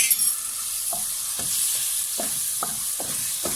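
Butter or margarine sizzling in hot caramel for popcorn, a loud bright hiss with a series of rhythmic stirring scrapes, close and with no talk.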